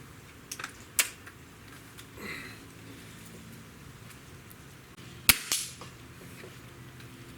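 A Walther LGU .177 underlever air rifle shooting at targets such as a pellet can and an egg, two sharp isolated cracks a few seconds apart with faint metallic rattles and impacts between them, in a quiet outdoor setting.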